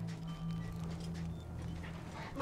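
A dog whimpers softly in the Mad Max video game, thin whines over a steady low engine hum and game ambience, with no talking.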